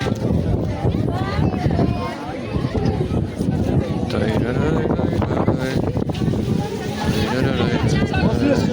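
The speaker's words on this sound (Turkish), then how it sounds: "İyi de esiyor ha." Strong outdoor wind buffets the microphone with continuous rumbling gusts throughout, while people talk over it during a holiday family outing.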